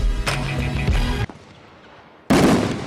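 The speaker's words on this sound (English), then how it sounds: "Hey, fireworks!" Fireworks go off at a high school football game: loud, dense bursts crackle for about a second, a short quieter gap follows, then another heavy blast erupts.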